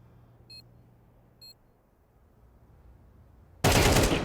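Gunfire in a Counter-Strike match on the Mirage map at IEM Cologne 2024 (Eternal Fire vs The MongolZ): a quiet stretch with two faint beeps, then a sudden, loud burst of rapid shots that runs to the end.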